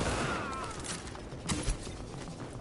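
Gunfire rattles in Tom Clancy's The Division as bursts of shots come from enemies at moderate distance, with a louder cluster midway and no talking.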